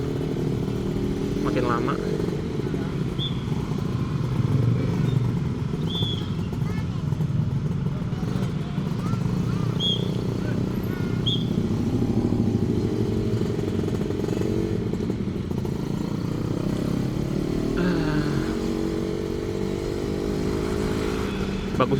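A Suzuki Satria two-stroke motorcycle rides through city streets at night, its engine droning steadily close by throughout, with a rider talking over it.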